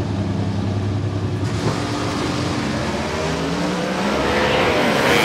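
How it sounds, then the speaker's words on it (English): An A-altered Morrison-powered Grand Am competition race car launches off the line at the Texas Motorplex drag strip, its engine roaring loud and steady with a rising tone as it pulls away. "Scott Linder lets the clutch out, and the car makes a left-hand turn just past the 60-foot clocks."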